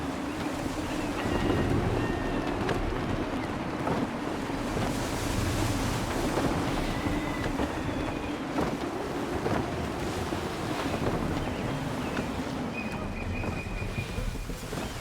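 Wind and waves while sailing a ship in the video game Assassin's Creed III, with a continuous rushing surf and gusty wind noise, plus faint distant shouts and calls from the crew.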